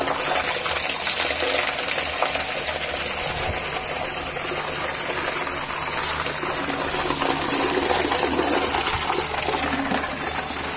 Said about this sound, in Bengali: পাইপ দিয়ে পানি দেওয়া হবে, কলের পানি